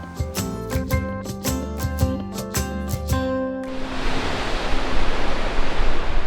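Ocean waves wash along the coastal trail at Yangnam-myeon, a loud, steady surf roar that takes over after a stretch of plucked, rhythmic music.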